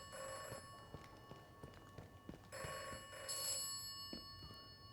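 Telephone ringing in the video game Atomfall, two bursts of an electronic bell ring, fairly faint, with soft footsteps and small clicks in between.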